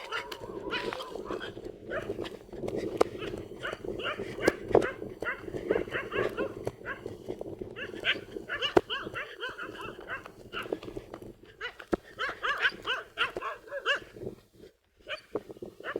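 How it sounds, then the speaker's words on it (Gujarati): Dogs moving and barking outdoors on a farm amid scuffling and clopping noises, with voices talking intermittently over the busy scene. "કુતરા આવી ગયા છે"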